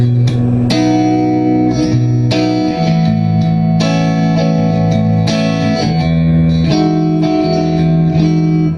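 A heavily distorted electric guitar through an Egnater Tourmaster 4100 tube amp on high gain, contour off, plays chugging chords and sustained notes, thick and saturated with a slight echo, loud and up close with no voices.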